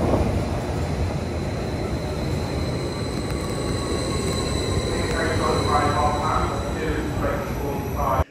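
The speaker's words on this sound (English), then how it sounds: "we are the only ones left on this train." Steady low rumble of a moving train heard from inside a carriage, continuous and fairly loud throughout with faint voices underneath.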